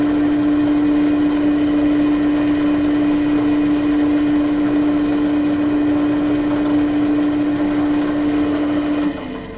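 A sensitive drill attachment with an Albrecht chuck running steadily with a loud, constant mechanical whine and hum, then spinning down at the very end.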